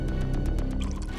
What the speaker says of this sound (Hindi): पानी मारो।